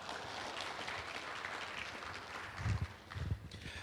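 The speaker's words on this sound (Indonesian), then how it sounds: "Kita sambut dengan tepuk tangan Bapak Muharrom." A crowd at a corporate awards night gives moderate, steady applause to welcome a speaker, with a few heavier low thumps near the end.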